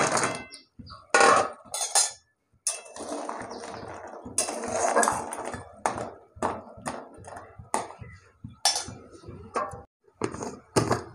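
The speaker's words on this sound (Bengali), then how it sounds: "এবার আমি ক্যাংড়া ভেজে রাখা ক্যাংড়াটা আমি দিয়ে দেবো।" Fried crabs dropped into boiling gravy in a pan for a tamarind crab curry, heard as a run of clattering metal knocks, scrapes and clinks from the utensils and pot, close and fairly loud, in bursts with short pauses.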